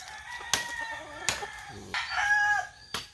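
Hens cluck and a rooster crows nearby, with a few sharp knocks punctuating the short burst of farmyard calls.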